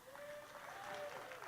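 Brief applause from an audience at a heritage proclamation ceremony, a steady rustle of clapping under a sustained tone and faint murmuring voices.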